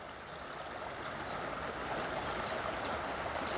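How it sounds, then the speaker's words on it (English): A waterfall and river roar as a steady, broadband rush of water, continuous and fairly loud, slightly swelling toward the end with no voices. "Listen to the waterfall."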